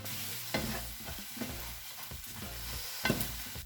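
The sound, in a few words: croutons cooking in pan, mixed with Parmesan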